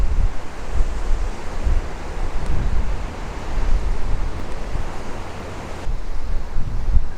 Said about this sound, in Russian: Ветер дует так, что я даже не знаю, запишется сейчас что-нибудь или не запишется.